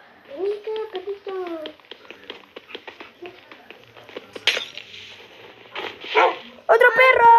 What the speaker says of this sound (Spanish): Vení acá, perrito.